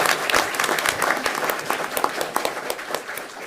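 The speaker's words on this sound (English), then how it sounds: "Let's clap for the Kiwanis Club." A school board meeting audience applauds members of the Kiwanis Club of Hardin County, a dense, steady wash of many hands clapping throughout with no pauses.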